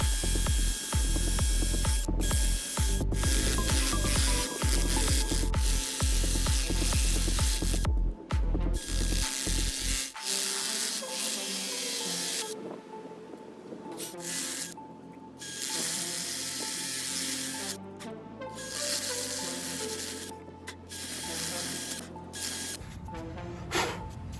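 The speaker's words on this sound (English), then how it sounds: "We're gonna cut right along these sides" Hand tool cutting along the sides of a Bird ES-400A electric scooter's battery casing, with rapid rhythmic rasping strokes for the first ten seconds, then quieter intermittent scraping and clicking, close and fairly loud, no talking.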